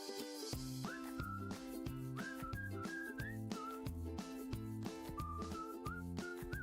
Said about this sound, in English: The music that's playing now on your channel, there's whistling.